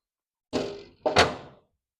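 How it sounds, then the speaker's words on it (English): A tool-chest drawer is pulled straight back off Snap-On slides, giving two close metallic clunks in quick succession, the second louder and rattling, with no talk. "you're going to pull straight back, nice and even, just like that."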